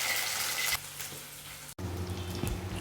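Shallots and garlic crackle and sizzle in hot oil with fenugreek seeds for a karunai kilangu puli kulambu, a steady close frying hiss that briefly cuts out and then returns louder and fuller.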